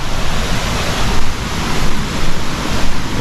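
A muddy river in Jamaica, swollen after rain, rushes in a loud, dense, continuous roar with slight surges, close by and filling the whole scene without voices.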